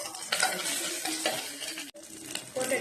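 A spoon stirs fried onions with ginger and garlic in a pan, with scraping strokes over a crackling sizzle, close up and moderately loud, with a brief gap partway through and no talking.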